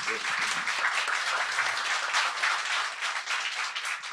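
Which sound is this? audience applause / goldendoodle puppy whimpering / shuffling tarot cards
audience applause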